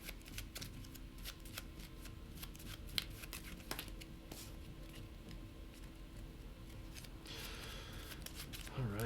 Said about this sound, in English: Shuffle the AI deck real quick